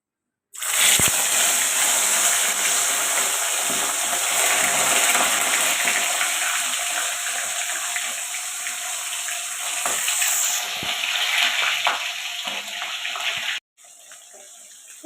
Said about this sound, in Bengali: এবার আমি মাছগুলোকে দিয়ে ভাজা করবো